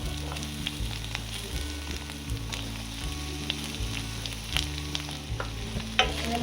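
Onion and capsicum fry in a pan with a close, steady sizzle, punctuated by rhythmic stirring scrapes and clinks of a utensil against the pan.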